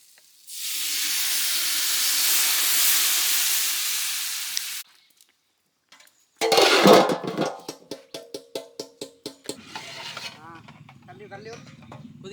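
Water hits hot, sizzling Kerala-style varutharacha chicken curry masala in a village kitchen, a loud, close hiss lasting about four seconds, followed by clattering, rhythmic knocks and a voice.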